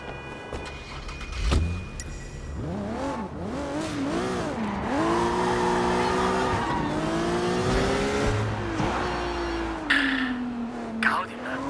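A car in Sleeping Dogs drives off with squealing tires, a rising and falling engine whine close by that settles into a steady drone, with a voice speaking briefly at the start and end.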